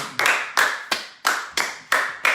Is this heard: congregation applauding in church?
yes